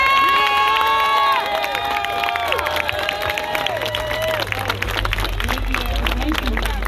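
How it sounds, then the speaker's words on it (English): A crowd at an outdoor vigil claps and cheers for a family, with whoops, whistles and children's shouts rising over steady applause that swells toward the end. "Let's give his family a round of applause right now."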